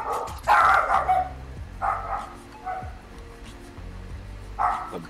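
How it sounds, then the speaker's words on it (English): Several pet dogs bark in bursts close by, with short pauses between the barks, heard over a low background hum. "The barking of my animals, my pets."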